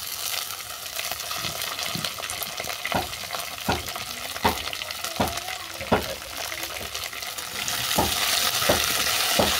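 Water spinach stems, radish, taro and potato frying in a pan after the tempering, giving a continuous bright sizzle with regular scraping stirs of a spatula roughly every second, swelling louder toward the end.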